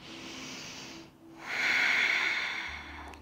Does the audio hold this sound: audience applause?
no